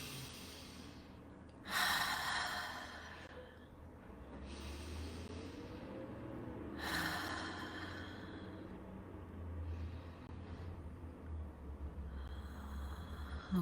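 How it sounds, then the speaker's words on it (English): Three deep, slow breaths, each drawn in and let out audibly at close range, spaced several seconds apart and broadly hissing, against quiet background noise with no talking. "And then 3 deep breaths in and out."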